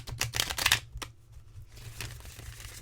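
A large, stiff yet bendy Dreams of Gaia tarot deck being shuffled, giving a burst of close papery riffles and flutters, then a single snap and softer card rustling with no talk.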